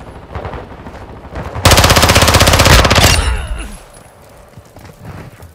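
Automatic weapon fire in Call of Duty: Modern Warfare II multiplayer, Domination mode against bots on the Santa Seña Border map: a loud, rapid sustained burst of about a second and a half after quieter scattered shots, then fading battle noise.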